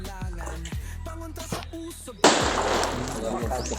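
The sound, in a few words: gunshots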